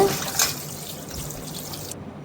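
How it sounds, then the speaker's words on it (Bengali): Water trickles and splashes steadily and close by while fish pieces are rinsed for a fish and potato curry, with a continuous liquid hiss that cuts off abruptly near the end. "প্রথমে মাছ কটা ধুয়ে নিলাম ভালো করে"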